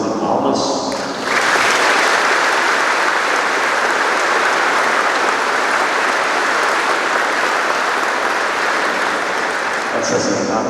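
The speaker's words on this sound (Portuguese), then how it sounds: "Nós poderíamos manifestar a nossa alegria, a nossa acolhida com uma salva de palmas." At a Confirmation Mass in the São José e Dores parish church in Alfenas, a congregation welcomes the confirmation candidates with a long, loud round of clapping that swells in after a moment of speech and fades as a voice resumes.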